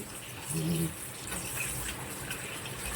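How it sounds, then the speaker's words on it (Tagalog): Water poured into a cooking pot while preparing ginataang puso ng saging, a short splashing gush that then settles into a softer, steady trickle. "Lalagyan ngayon natin siya ng tubig."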